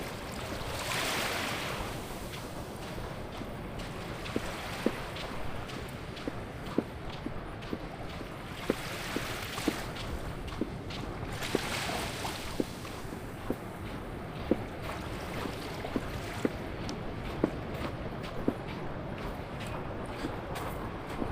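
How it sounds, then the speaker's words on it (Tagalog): Small waves washing onto the shore at Manuel Uy Beach in Calatagan, a steady soft surf with periodic swells, heard alongside wind and light crunching footsteps. "May konting alon dun, no?"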